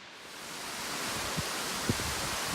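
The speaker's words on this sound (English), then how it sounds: "And one absolutely spectacular waterfall." Steady broadband rush of a large waterfall in Yellowstone National Park, constant and enveloping with no letup, a couple of faint low knocks surfacing briefly from the flow.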